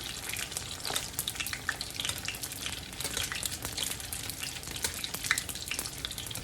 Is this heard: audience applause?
no